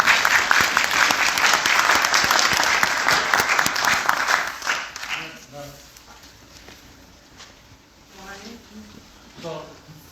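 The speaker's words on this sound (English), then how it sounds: "give everyone a round of applause" A round of applause from the audience at a community board meeting, dense clapping loud for the first five seconds then thinning into scattered claps and murmured voices and talk.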